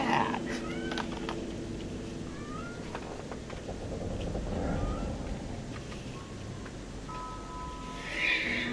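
In the horror video game Conarium, a cat lets out several short meows over a dense, noisy ambient background, with one clearer cry near the end.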